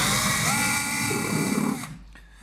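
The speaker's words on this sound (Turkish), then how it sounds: "deliğimi hem ikilik matkap ucuyla deleceğim hem de havşa başı açacağım" A power drill with a 3 mm bit whines steadily at high speed for about two seconds, grinding as it bores into wood, then stops abruptly, leaving quiet.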